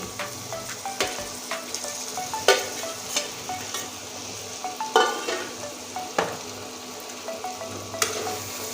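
Fried potatoes stirred into a spiced masala in a pan for a Bengali fish curry, with steady oil sizzle and repeated scraping clinks of a spatula against the pan, close and loud; no voices.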